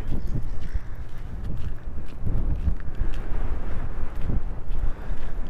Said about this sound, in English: Oh dear, I'll be glad to get out of this wind.